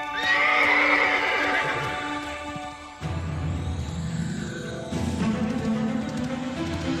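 Horses being driven hard in an animated adventure, a loud shrill neigh up close followed by rumbling hooves and scattered clip-clop, with a faint voice beneath.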